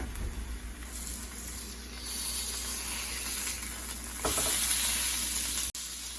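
Burger patty sizzling in a pan while it is flipped: a dense, steady hiss and crackle of frying, close and constant, with a brief scraping turn partway through.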